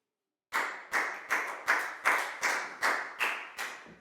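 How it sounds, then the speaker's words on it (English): A small classroom of students claps in unison for a classmate during a Year 4 English lesson, a run of about nine even, rhythmic claps, close and moderately loud. "Big round of applause for Lakgao,"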